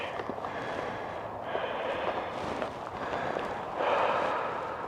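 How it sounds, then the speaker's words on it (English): Close, breathy snuffling and sniffing in repeated bursts, a dog nosing around near the microphone. "What are you sniffing there, Princess?"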